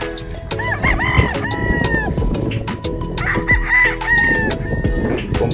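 A gamecock stag crows twice at a game farm, loud and close. The rooster's drawn-out calls sit over a busy yard of other birds clucking and scratching.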